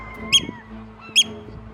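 Puffins in a large seabird colony give two brief, harsh squawking calls about a second apart over a low steady hum. Thousands of birds are present, but only these two nearby calls stand out.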